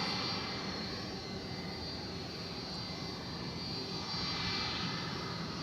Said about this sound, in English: This is the Frontier flight flying between flagpoles.